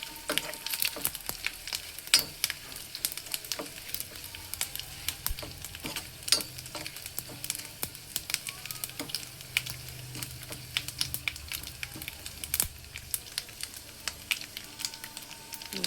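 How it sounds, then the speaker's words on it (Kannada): Dry coconut fries in oil for a tempering, giving a continuous crackling sizzle with frequent sharp pops and stirring clicks, close and steady throughout, with no voices. "ಹಾಗೆ ಈ ಒಣ ಕೊಬ್ಬರಿ ಇತ್ತಲ್ಲ, ಇದೊಂದು ಸ್ವಲ್ಪ ಒಗ್ಗರಣೆಗೆ ಹಾಕ್ಬಿಡೋಣ"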